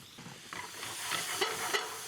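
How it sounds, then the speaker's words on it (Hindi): Onions go into hot oil and crackle with a bright, close hiss, with short bursts of sizzle as they are stirred in the pan. "Now in the same hot oil, let us add some onions."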